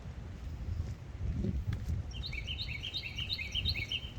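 Several birds chirp and trill in quick repeated bursts over a low outdoor background hum by the sea, fairly faint and somewhat distant.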